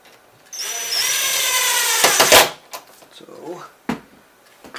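A power impact driver runs screws in while a smart lock is fitted, sounding as one loud, steady whirring burst of about two seconds that ends in a few sharp hammering impacts, followed by quieter handling clatter and a brief knock.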